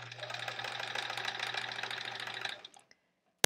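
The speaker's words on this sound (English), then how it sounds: "machine just wants to keep eating those triangles" A sewing machine stitches quilt fabric triangles for a flying geese block, a steady fast mechanical whir that runs close and loud, then stops abruptly with a couple of small clicks and a sharp knock at the end.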